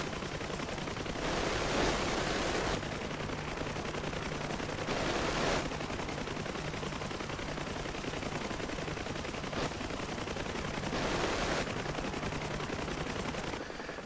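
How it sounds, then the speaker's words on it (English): Forward-mounted machine guns on a UH-1H Huey helicopter in the DCS flight simulator fire in three sustained bursts of rapid gunfire, each a second or two long, over a constant rotor and engine drone. "the co-pilot will start giving it stick with the forward-mounted machine guns as well"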